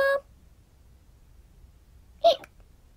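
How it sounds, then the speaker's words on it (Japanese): Two short, sharp hiccups, one at the very start and another a couple of seconds later, each a quick isolated burst separated by near silence. "しゃっくり"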